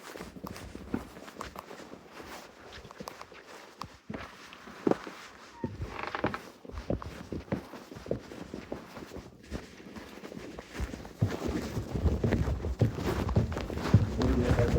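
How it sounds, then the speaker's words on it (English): Incessant footsteps echo along a bare, uncarpeted hallway, a steady stream of hard taps and scuffs that grows louder toward the end. "You just hear footsteps, incessant footsteps."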